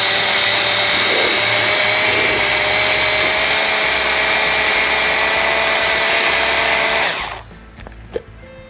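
Food processor chopping beef meatball ingredients, a loud steady motor whine with grinding churn that runs several seconds and then winds down, followed by a light clunk, no talk.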